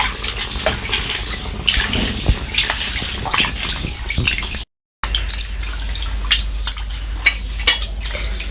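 Fish being rinsed and cleaned by hand in water beside the Padma river, with steady splashing and sloshing close by, briefly cut off and then resuming.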